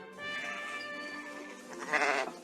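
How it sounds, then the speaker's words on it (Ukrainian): Sheep bleat under wind turbines in the Netherlands, one drawn-out wavering bleat followed by a second, stronger bleat, fairly close and alone against a quiet background. "під ними спокійно пасуться вівці"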